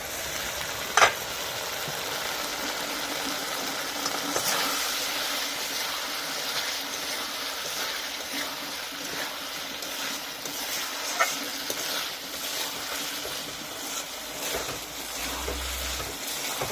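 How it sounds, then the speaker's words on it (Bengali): Masala spices frying in a pan for a moya fish curry with khuriya stems, giving a steady, moderately loud sizzle with faint stirring scrapes throughout and no voices. "মশলা কষানো হয়ে গেছে"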